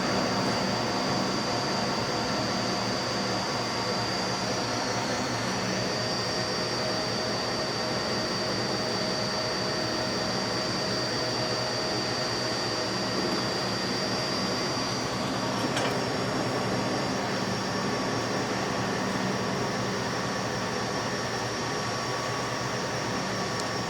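A RAM SCD300 dicing machine runs beef through a 25mm grid set, giving a steady, loud mechanical whir with a constant high whine throughout and no pauses.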